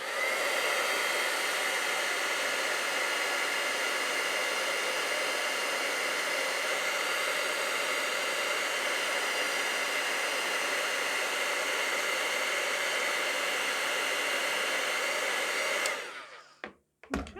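A heat tool blows a loud, steady roar over embossing powder on hot glue for about sixteen seconds, then cuts off abruptly with a few brief clicks and rustles at the end.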